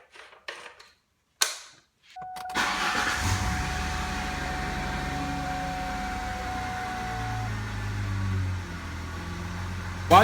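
A car engine starts and then idles at a steady, fairly loud level after a few clicks and a brief silence, its low rumble running evenly to the end.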